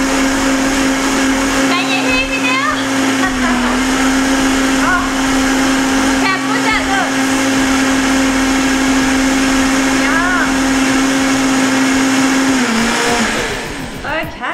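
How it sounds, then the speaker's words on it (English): A blender runs continuously while blending a mango smoothie, a loud steady whirring motor with a constant hum that stays even for most of the stretch before winding down near the end, with people talking intermittently over it. "You can set off the blender."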